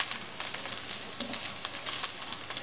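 Pieces of chicken of the woods mushroom deep frying in hot oil, a steady crackling sizzle with dense popping bursts, close and continuous with no talking.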